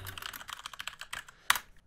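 A computer keyboard being typed on while a file name is entered, with a quick run of soft, close key clicks ending in a sharper final keystroke.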